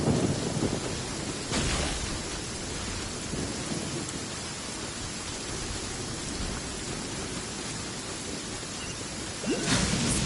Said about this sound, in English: The thunder drowns out all other sounds, hampering my perception of the surrounding environment.